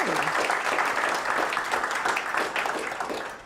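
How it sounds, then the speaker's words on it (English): Steady applause from an audience, many hands clapping continuously at moderate volume, tapering slightly at the end. "Round of applause for them."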